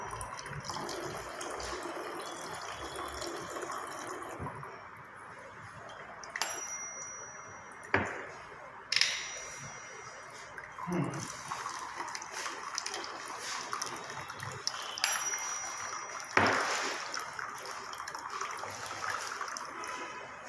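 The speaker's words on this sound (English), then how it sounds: "Slowly the water is coming out here." Water slowly drains from a Helmholtz resonator vessel, trickling and gurgling steadily at low volume, with occasional clicks and taps breaking through the flow.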